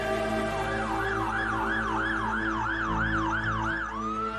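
Ambulance siren wailing in a steady rising-and-falling cycle, loud and close, repeating about every half second over a low engine rumble before sliding off near the end.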